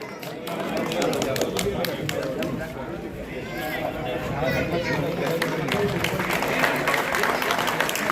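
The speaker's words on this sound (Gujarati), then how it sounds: "આપણે સૌ તાળીઓથી વધાવીશું મહેમાનોનું સ્વાગત થઈ રહ્યું છે ત્યારે" An audience at a felicitation event in Wankaner, Morbi district, applauds to welcome guests, with dense sustained clapping and crowd chatter mixed in throughout.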